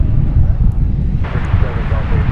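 An American Airlines Boeing 737-800 in oneworld livery, flight 1436 arriving from Costa Rica, taxis to park at DFW Airport. A steady, distant jet rumble runs throughout, mixed with wind noise on the microphone.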